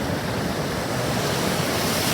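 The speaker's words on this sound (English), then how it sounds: "And then the waves come in and get me." Ocean waves wash onto a Cape Breton Island beach in a steady broadband roar of surf, mixed with wind noise and without any voices.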